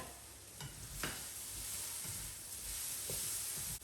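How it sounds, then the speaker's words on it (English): Vegetables, including sweet potato, fry in a pan after the lid is lifted. A soft, steady sizzle and hiss continues while a spoon scrapes and stirs them a few times, quietly and close by. "let's take the lid off, give them a stir,"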